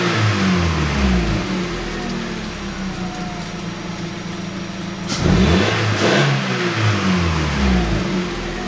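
Engine of a 2011 Chevrolet Cruze with an F18D4 engine, after cam phaser and timing belt replacement, holding a steady drone with a revving surge midway that then settles back.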